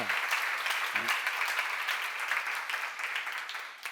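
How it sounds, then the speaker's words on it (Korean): A church seminar audience applauds a pastor's lecture, with continuous, fairly even clapping for a few seconds and a short voice fragment near the start. "빨리 박수야"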